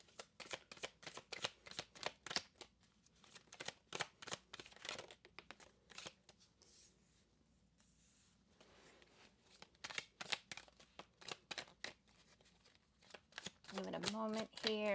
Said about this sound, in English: I'm going to go ahead and pull a few cards together to just see what the energies are for the week ahead.